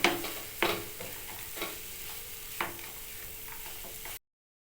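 Chopped cashews and almonds are stirred in a hot pan for semolina motichoor laddu, giving a few soft scraping strokes over a faint continuous sizzle, close by and with no voices.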